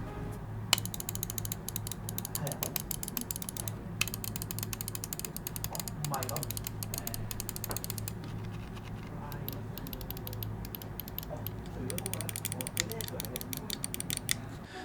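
Continuous rapid clicking and ratcheting of a Glorious Model O Wireless gaming mouse, close and steady, with bursts of dense clicks and faint scroll-wheel ticks throughout.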